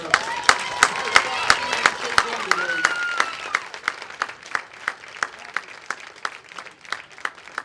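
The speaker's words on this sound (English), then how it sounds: "let's have one big round of applause for both teams" A crowd at a middle school softball championship game applauds both teams, dense clapping at first with a voice speaking over it, then thinning to scattered individual claps that continue steadily to the end.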